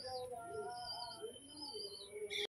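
A large male Kalshira pigeon among other fancy pigeons gives faint, wavering calls and chirps over a quiet steady hiss, with no talk.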